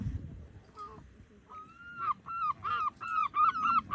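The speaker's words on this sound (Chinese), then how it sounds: "这海鸥在虎视眈眈的，看有没有食物可以捡来吃。" Seagulls calling outdoors near the coast, a series of repeated honking cries that grow louder and more rapid toward the end, heard over low background rumble.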